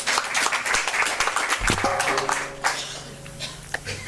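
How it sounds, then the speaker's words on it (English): An audience gives a round of applause for a guest speaker at a talk event, a dense patter of clapping that thins out midway as a voice and a brief tone come in. "Do you want to give a round of applause?"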